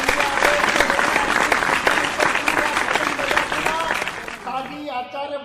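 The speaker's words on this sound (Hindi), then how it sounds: "आचार्य भगवान गुरुदेव तक आपकी तालियां पहुंचे" Audience clapping steadily at a Hindi poetry gathering (kavi sammelan) in Indore, loud and sustained, then easing as a voice speaks over the fading applause.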